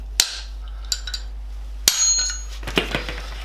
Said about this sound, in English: Just give the old race a bit of a tap because it's got stuck in